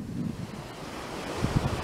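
Steady gusting wind roars across the microphone with surf rumbling underneath at Belmar Beach, New Jersey, a couple of louder buffets near the end.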